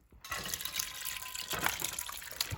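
Liquid pours steadily into a container, a continuous splashing gush that starts abruptly and keeps running without pause.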